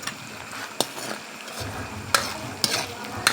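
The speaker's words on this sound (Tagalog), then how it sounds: "Halo na lahat." Balbakua ingredients being stirred in a pot, with soft scraping and sizzling broken by a few sharp utensil knocks against the pot.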